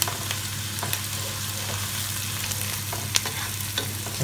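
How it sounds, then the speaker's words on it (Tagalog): Garlic and onion fry in a pan with a constant crackling sizzle over a low steady hum, a couple of brief utensil clicks near the end, close up and without speech. "maluto lang konti yung bawang at sibuyas"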